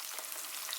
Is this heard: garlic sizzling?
yes